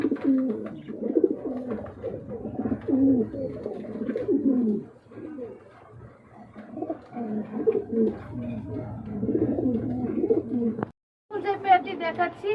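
Red racing pigeons, a breeding pair, coo in continuous overlapping low phrases, close by, with a brief dropout near the end followed by more cooing and a higher chattering burst.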